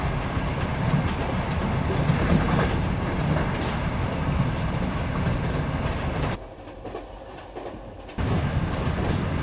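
A steady rumble and rattle of a moving train carriage in Ukraine, with rhythmic wheel clatter; the noise briefly drops quieter before returning to full strength.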